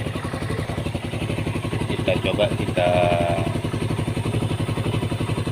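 Honda CB150R motorcycle engine idling close by with a steady rapid pulse, someone talking over it.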